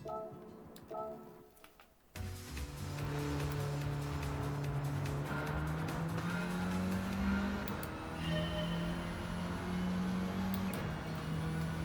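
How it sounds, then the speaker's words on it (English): A Mini race car in Gran Turismo 7 revs steadily and accelerates through the gears, its engine drone loud and continuous after a brief quieter opening, with faint tire and ticking noises beneath and no talk. "We're gonna race our mini."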